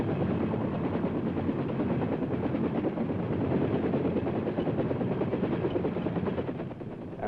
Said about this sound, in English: the chopper is moved to a different part of the field where the rocket pods are armed and the gun barrels are put on